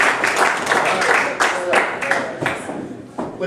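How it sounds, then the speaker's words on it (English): A comedy variety show audience applauds a female volunteer, a dense, steady wash of clapping with a loud burst near the middle, as a voice talks over it. "Let's give her a round of applause."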